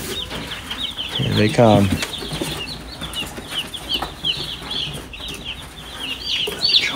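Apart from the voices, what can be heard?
Cornish cross meat chicken chicks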